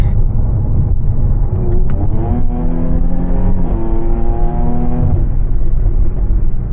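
A Jaguar F-Type sports car engine revs hard and climbs through rising pitch as it accelerates, loud and close, with a deep rumble underneath.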